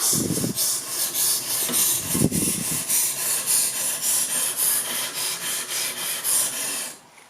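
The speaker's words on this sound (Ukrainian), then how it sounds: "Після доведення проходів з однієї сторони перегортаємо наш ніж на іншу сторону і повторюємо операцію." A knife drawn in repeated strokes across the stone of a Ruixin Touch Pro RX-009 sharpener gives a steady series of close, raspy scrapes in an even rhythm, then stops near the end, with no talking.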